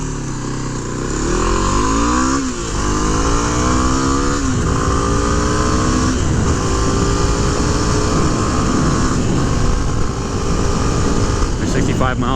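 A 2006 Kawasaki KLX250 motorcycle engine drones loud and steady while riding, its pitch climbing and falling through gear changes as it is wound out at highway speed, with wind rush and a voice talking over it.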